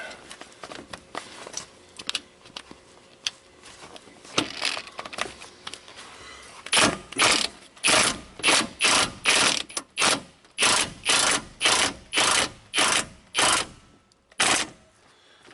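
A scissor jack is cranked down, giving a steady run of close, loud ratcheting clicks in regular bursts that grow stronger and more even partway through, with no talk.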